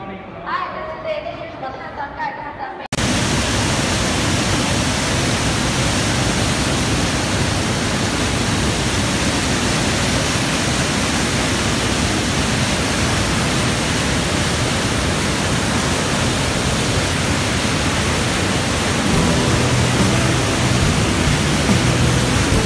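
A double waterfall inside a karst cave roars as a loud, unbroken wash of noise after a few seconds of quieter cave ambience, continuing steadily to the end.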